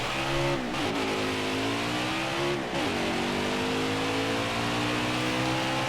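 NASCAR Cup Series race car in the NASCAR Heat 5 video game on a qualifying lap, its engine droning loud and steady with two quick dips and climbs in pitch as it shifts or lifts, then holding a high sustained roar.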